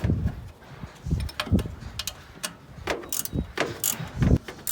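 Ratchet clicking in short bursts as bolts are tightened on a 1971 Ford F100 during a power steering belt replacement, close and mechanical, with scattered clanks between the ratcheting strokes.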